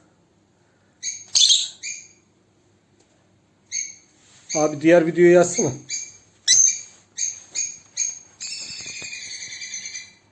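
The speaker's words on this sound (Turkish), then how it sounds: "YouTube'dan Cennet Papağanı sesi açacağız." Bright, tonal paradise parrot calls played from a recording ring out in short bursts, broken by a voice in the middle, with rapid repeated chirps toward the end.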